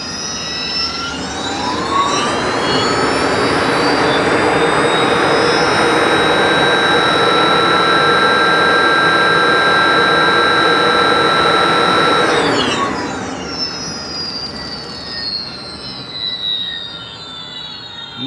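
An electric motor on a torque-versus-RPM test runs in first gear, a loud, steady high-pitched whine that climbs and holds for about twelve seconds before its pitch slides downward as it eases off.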